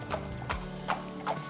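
Horses trotting at a racecourse: a steady run of sharp hoof clip-clops, four strong strikes spaced about every 0.4 seconds, fairly close and clear over a low background hum.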